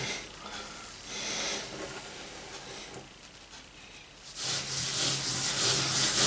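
Hands rubbing a spice rub into a raw brisket before smoking, a close, continuous rough scraping and rubbing with strokes swelling in loudness, no speech.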